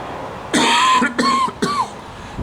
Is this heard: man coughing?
yes